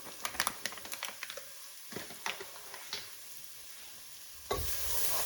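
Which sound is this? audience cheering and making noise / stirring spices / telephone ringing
stirring spices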